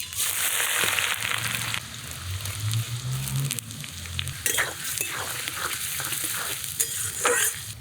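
Chopped onions sizzle steadily in hot oil while being fried for chicken biryani, with occasional stirring scrapes and clinks rising over the continuous frying hiss; no talking.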